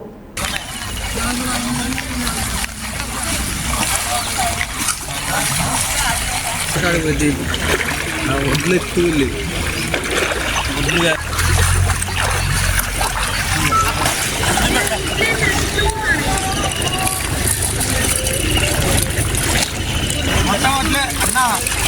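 Floodwater from a swollen village stream rushes through a grain procurement centre after unseasonal rain, a steady broadband wash of churning water heard close and continuous, with voices talking over it.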